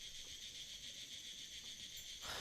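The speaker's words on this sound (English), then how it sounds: "I think I can hear a cricket chirping in the barrel." Cricket chirping inside a barrel in the video game The Night of the Rabbit, a steady high shrill trill repeating evenly throughout, faint and alone with no talk.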